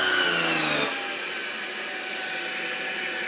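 A Tineco Pure One S15 Pet cordless vacuum drones steadily up close. Its tone drops and thins after about a second as the brush is blocked and slows, while the motor keeps running without stopping.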